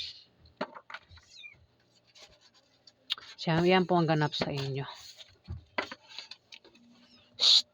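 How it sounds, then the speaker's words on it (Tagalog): A pet cat lets out a loud, drawn-out meow midway, with scratching and faint rustles around it and a person speaking briefly in the room. "Ingay ng pusa namin."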